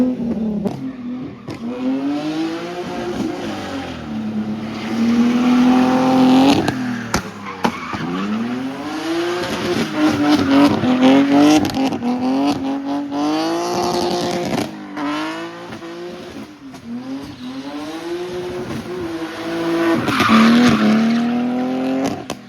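Volkswagen Beetle with an automatic gearbox drifting, engine revving in rising and falling sweeps while tires squeal and skid repeatedly, loud and close across the whole stretch with no talk.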